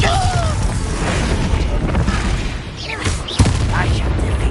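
In the Hogwarts Legacy game, a Bombarda blasting spell erupts in loud booming explosions over a dense roar of battle noise, with a sharp crack near the end and a voice shouting amid the fight.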